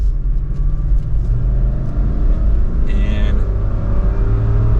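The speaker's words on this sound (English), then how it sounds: "We can listen to that V8, very mild acceleration" A 2023 Lexus GX460 Blackline V8 under mild acceleration on a test drive, a low steady engine rumble with road noise heard from inside the cabin, continuous and moderately loud throughout.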